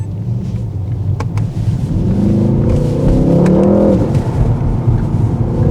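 A Mercedes GT63s on a road test drive after an ABS repair, its engine rumbling close and loud, then rising in pitch as it accelerates midway before settling again.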